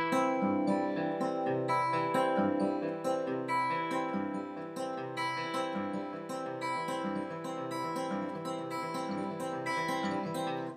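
Acoustic guitar Travis picking with the fingerpicked pattern shifted onto the off-beats, a steady flowing run of plucked notes over an alternating bass, played alone and close for about ten seconds.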